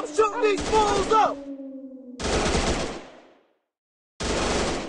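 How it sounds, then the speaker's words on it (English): Gunfire in a shooting video game comes in loud broadband bursts, a sustained tone between the first two, with a gap of silence before a final burst. "I'm shooting these fools up!"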